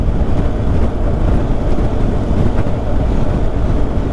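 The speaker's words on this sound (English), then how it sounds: "A bit windy here." Steady, loud wind buffeting a microphone on a boat moving at a brisk pace, a continuous low roar filling the whole stretch with no speech.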